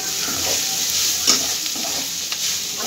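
Home-grown organic vegetables frying in a pan, a steady close hiss and crackle with a few brief louder spatters and stirring scrapes, no talking.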